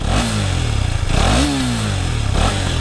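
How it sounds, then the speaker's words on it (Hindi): KTM Duke 250 BS6 motorcycle revving close up, with two sharp throttle blips rising and falling over a choppy idle, loud and alone. "So here's the exhaust note of this bike."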